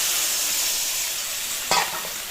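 Tilapia fillets frying in hot oil in a home kitchen, a steady broadband sizzle running throughout with a brief sharper crackle or clatter near the end; no voices.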